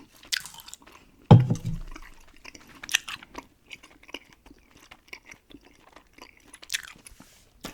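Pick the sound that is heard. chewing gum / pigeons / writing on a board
chewing gum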